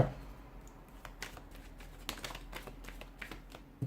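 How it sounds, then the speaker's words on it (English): Soft, scattered riffles and taps of tarot cards being shuffled, a quiet papery shuffling with brief clicks spread over a few seconds, no voices. "give the cards a shuffle"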